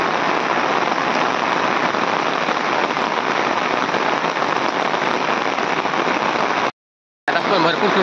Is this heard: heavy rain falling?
yes